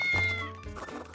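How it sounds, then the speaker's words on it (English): A cat gives a single drawn-out meow, close and clear, trailing off into a softer wavering tail. "The cat is asking if we really want to know what happened to Pinky Toes"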